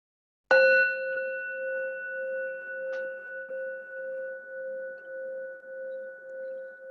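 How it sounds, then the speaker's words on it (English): A single bell is struck once and rings out with a clear, sustained tone that slowly fades, with a faint tap partway through. "I'll ring the bell."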